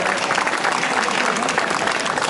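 An audience claps steadily and densely throughout, a continuous near wash of applause at a Slovácko folk costume parade, with a faint murmur of crowd voices underneath.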